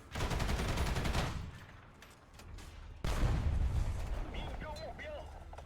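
Tank cannon of the Object 490 firing in a video game, a heavy booming blast with a long rumbling tail, followed by a second shot about three seconds later, loud and close.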